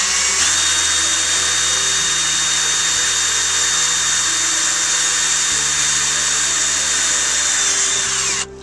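A power drill boring a 7.5mm hole for fitting a front mud flap on a Range Rover Evoque, a loud continuous whine running steadily for about eight seconds before cutting off, with no talking.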